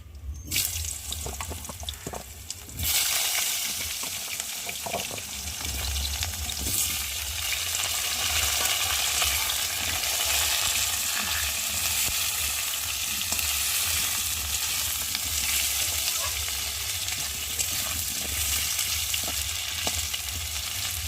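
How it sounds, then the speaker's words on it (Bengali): Small diced potatoes go into hot oil in a pan, with a loud, dense, continuous hiss of frying and some stirring that persists close up for the whole stretch. "এবার দিয়ে দেবো কেটে রাখা ছোটো ছোটো ডুমো ডুমো করে আলুগুলোকে দিয়ে ভালো করে একটু ভেজে নেবো"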